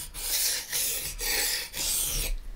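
Japanese Miyabi kitchen knife being sharpened on a whetstone, four rhythmic rasping strokes of steel scraping across stone, close and clear with brief gaps between passes.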